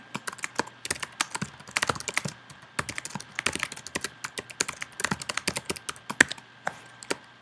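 Typing on a computer keyboard during a Git and GitHub session, a fast run of close, crisp key clicks in irregular bursts with no talking.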